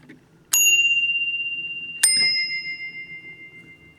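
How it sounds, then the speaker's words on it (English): A small adjustable telephone bell strikes twice, each a bright metallic ding that tinkles and rings out slowly, the second coming about one and a half seconds after the first. "I adjusted the bell so it makes a nice tinkle."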